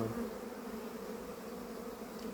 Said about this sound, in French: je vois que toutes les abeilles occupent tous les cadres